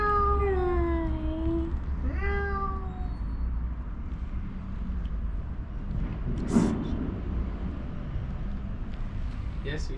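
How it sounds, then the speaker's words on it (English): Stray cats in Belgrade, Serbia meow repeatedly in the first few seconds, a few clear rising and falling cries close by, followed by a continuous low rumble of street noise and a brief louder knock. "These are stray cats. These are not the house cats."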